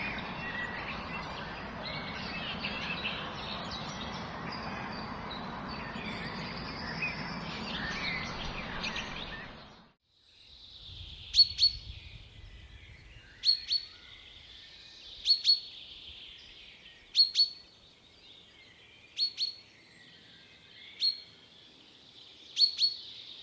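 Chaffinches singing in British woodland, a run of clear, repeated song phrases spaced about two seconds apart, each ending in a bright flourish, following a stretch of dense, loud broadband rustle.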